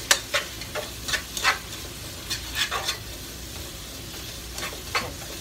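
Onions sauté in a pan under a low sizzle, broken by sharp scraping stirs that come in short bursts every half second or so, close and without speech.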